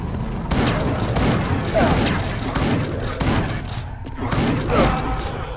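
Repeated gunshots in the video game Chasm: The Rift, a series of sharp booming shots spaced through the clip, with a person talking between and over them.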